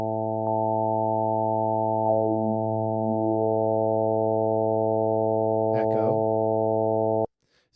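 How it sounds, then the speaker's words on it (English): Steady stack of simple sine-wave tones held together as a bright, unwavering chord with added reverb, loud and alone for about seven seconds before cutting off abruptly, with a faint voice briefly heard underneath. "let's add those two phenomena to further enhance our sound here of these simple sine waves."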